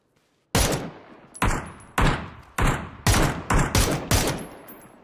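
PUBG video game gunfire: after a moment of near silence, seven loud, sharp single shots ring out at a steady, slightly uneven pace, each with a short echoing tail.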